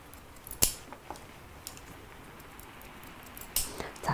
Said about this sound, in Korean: 가위를 이용해서 끝을 이렇게 단차를 주는 게